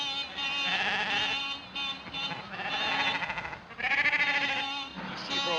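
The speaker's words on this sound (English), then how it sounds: "Sheep are all over the road, damn silly things." A flock of sheep crowding a country road bleat repeatedly, several overlapping wavering calls in quick succession, close and fairly loud, in an old 1935 film soundtrack.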